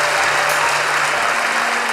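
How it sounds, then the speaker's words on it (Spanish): Steady, dense applause from an audience, continuous clapping filling the whole moment with no voices on top. "¿Por qué aplauden?"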